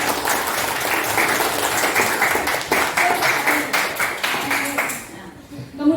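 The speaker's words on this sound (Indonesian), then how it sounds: "Tepuk tangan untuk jawabannya." A classroom of students claps for a classmate's answer in an Islamic religious education lesson, a steady round of close, dense hand clapping lasting several seconds before it fades out.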